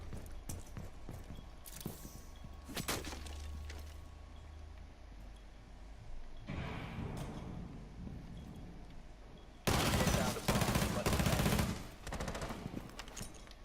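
Gunfire in Rainbow Six Siege: bursts of rapid shots broken by quieter gaps, the loudest dense volley near the end, with no talk over it.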